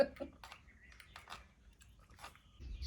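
Crunchy chana math snack eaten with date-tamarind chutney, a series of quiet, close crunching bites spaced irregularly over a few seconds in a quiet room.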